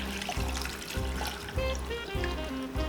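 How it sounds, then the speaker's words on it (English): Water poured into a pot holding salt, spices and sugar for corned beef brine, a close, steady gurgling trickle with rhythmic glugs repeating about every half second. "we will add water to this. You can see, adding water."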